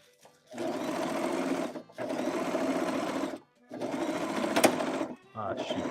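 A sewing machine stitching fabric for a hanbok blazer runs in three loud, close bursts of rapid mechanical whirring separated by short pauses, with a fourth burst starting at the end.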